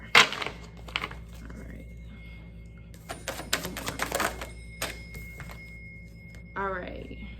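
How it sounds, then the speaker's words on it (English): A deck of reading cards gets shuffled in several crisp riffling bursts, close and fairly soft, broken by quiet pauses, with a faint tone and a brief voice near the end. "I don't know why I'm shuffling."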